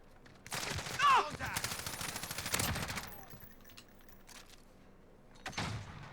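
Gunfire in Modern Warfare comes in bursts of rapid shots, faint to moderate, with gaps of quiet between them and a final short burst near the end.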